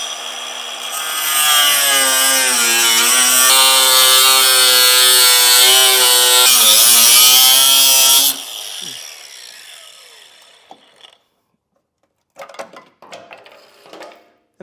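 A power saw cuts a notch into the frame of a 2022 Jeep Grand Cherokee WL during a Blue Ox base plate install, loud and steady for about seven seconds, then winding down, followed by a few short clattering bursts.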